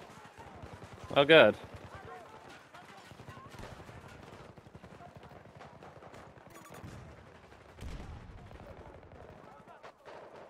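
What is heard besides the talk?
gunfire in the video game Battlefield 2042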